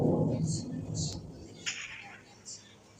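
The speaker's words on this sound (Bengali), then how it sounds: "থান্ডারস্টর্ম, এখন ঘুমাতে পারবো?" Rumbling thunder from a thunderstorm in the video game Minecraft, heavy and loud at first and then fading, followed by a few short, higher sounds at lower volume.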